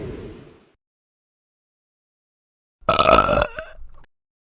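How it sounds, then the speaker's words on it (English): A single loud, close belch rumbles for about a second on its own, following a brief fading sound at the start. "A belch is a loud sound from the stomach."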